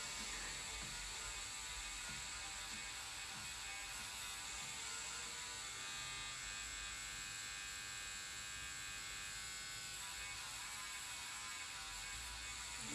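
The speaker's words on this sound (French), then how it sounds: "Ça va le bruit de la machine pour le live?" A rotary tattoo machine runs in a steady, continuous high buzz with a faint mechanical whir, unchanging and close throughout, with no talk.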